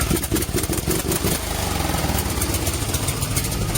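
A 25-year-old Briggs and Stratton 12.5 hp small engine runs steadily close by after a breather gasket repair, a loud, even mechanical drone with rougher sputtering at first before settling into a constant hum.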